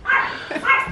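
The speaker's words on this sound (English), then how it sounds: "Oh my God, you got dogs!" A dog barks close by with a couple of quick yappy barks.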